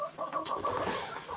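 Hens cluck in short, close bursts beside a snow-covered three-season greenhouse, a quick burst of fowl chatter with no voices.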